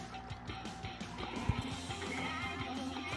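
A horse neighs in a horse riding video game, a fairly close whinny amid game ambience and faint hoof-like thuds, with a sharp knock around the middle.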